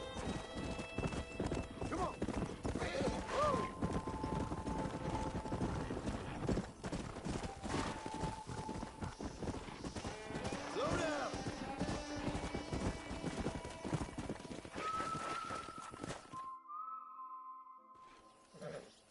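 Horse hooves clip-clop steadily and close by in Red Dead Redemption, with occasional whinnies and faint voices in the background, before going quiet near the end.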